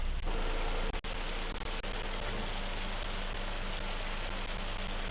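Simulated rainfall from Farming Simulator 25 in a forest logging setting, a dense, steady hiss of rain on surfaces that continues evenly, with a couple of brief dropouts near the start.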